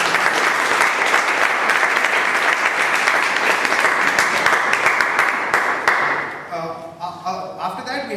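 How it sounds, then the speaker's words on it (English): An audience gives a round of applause at a speaking event, loud sustained clapping that fades out near the end into a few scattered claps and faint voices. "I think we should give him a round of applause"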